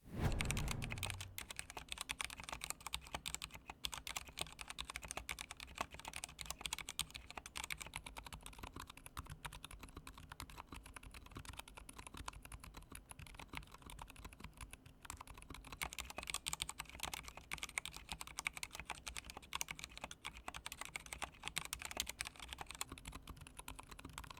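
Steady typing on an Akko 3087 Silent mechanical office keyboard, close and quiet, with dense, muffled keystrokes clattering continuously throughout and no voices.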